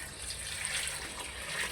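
Water is poured into a pot for chicken kadhi (desi curry), a steady splashing and gurgling stream heard close and continuous with no talking.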